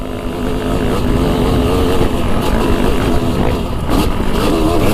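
A freshly built MX Revival motocross bike runs with a loud, close, continuous engine drone that holds steady for several seconds.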